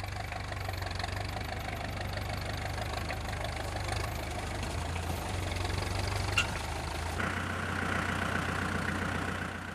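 An Aitchison bale wrapper's engine runs steadily at idle for the whole stretch, a constant low mechanical drone with a slight knocking pulse and a brief clank partway through.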